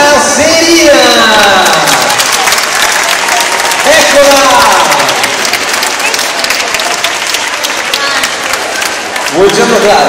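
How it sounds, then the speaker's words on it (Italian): Loud, dense applause from an audience at a live event in a shopping centre welcomes a guest onto the stage, sustained throughout, with an announcer speaking over it. "vi accogliamo con un grande applauso qui sul palco"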